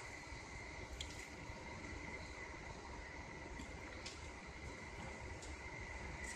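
Sobu Line Rapid service double-deck green car train running flat out at 120 km/h on a straight section near Shimosa-Nakayama, heard from inside as a steady loud rumble with wheel hiss and occasional faint clicks, no talking.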